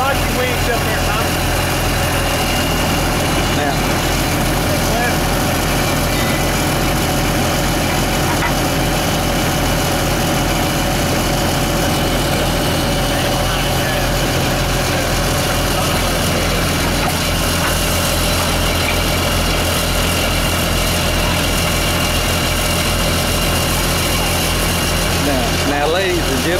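A truck engine idles steadily to run a winch used on 5/8-inch steel cable, a loud continuous rumble that holds for the whole stretch, close by, with people talking over it now and then.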